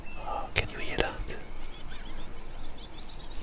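Short-eared owl calling outdoors in early June: sharp, screechy calls early on, then a repeated series of faint, high chirping notes over quiet background hiss.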